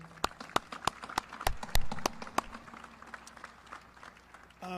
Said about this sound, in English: I would just like everybody to give a round of applause for my friend Lindy